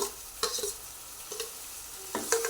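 Ground onion-tomato paste fries in oil for a Pandharpur bazaar amti, a low sizzle broken by three or four scraping spoon strokes against the pan, close and clear with no voices.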